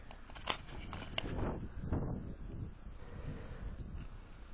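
Wind blowing on a mountainside near the Pech de Laure at Trassanel, a steady, rushing buffet on the microphone with a few louder gusts and faint rustling.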